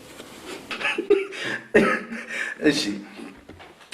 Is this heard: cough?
yes